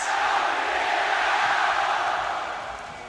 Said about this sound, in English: You can hear the crowd tonight.